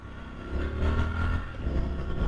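A Triumph Scrambler 1200 XC motorcycle engine pulls harder on a road test ride, a close, dense low rumble that swells and holds steady over a couple of seconds under wind roar.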